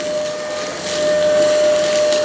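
A Tikom V500 cordless vacuum cleaner runs steadily nearby, a constant whirring hiss over a thin motor whine that swells slightly partway through.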